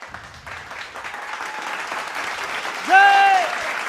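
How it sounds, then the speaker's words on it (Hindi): Applause fills a ceremony hall for a veteran being honoured, a steady wash of many hands that swells near the end, with a voice and a ringing tone cutting through briefly. "एक बार उनके लिए बहुत जोरदार तालियां होना चाहिए"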